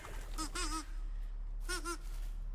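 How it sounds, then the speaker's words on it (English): A bird in a video game gives two short honking, goose-like calls, each a quick cluster of nasal notes, heard faintly over a low background hum. "I thought they had a really unrealistic sound for the bird"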